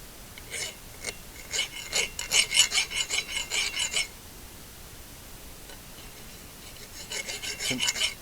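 Filing the edge off the anvil of a Wilton C2 vise during restoration makes close, rhythmic rasping strokes in two bursts, about a dozen steady passes, then a gap and a few more strokes.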